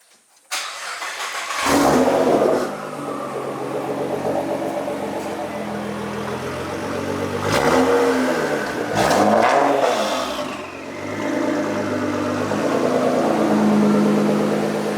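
A Nissan GTR engine cranks and fires, then idles loudly nearby with several sharp throttle revs that rise and fall before settling back to a steady idle.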